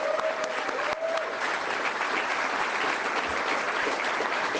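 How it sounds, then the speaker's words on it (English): Audience applause at a Hamilton political campaign rally greets an introduced candidate: loud, sustained crowd clapping that stays full and even, with a brief faint tone near the start. "Give her a round of applause."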